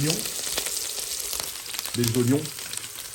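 Onions frying in a pan, a continuous crackling sizzle heard throughout, with a voice speaking over it in short bursts.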